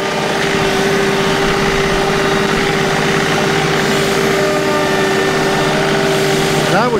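A HydrosPlus 2R3E loader engine runs steadily at a set throttle, a loud, close, constant drone with a strong hum and even vibration throughout, and a brief whine near the end.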